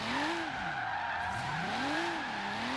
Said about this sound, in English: So you can see there the car now wants to initiate a drift just with throttle.